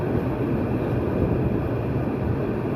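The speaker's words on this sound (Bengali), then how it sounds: "ট্রেনটি, তার গতি কমিয়ে দিয়েছে, গতি কমিয়ে সামনের দিকে যাচ্ছে ট্রেনটি" A train running on the Dhaka to Narayanganj line as it slows, a loud, steady, close rumble of wheels and carriage noise that fills the whole clip without pauses.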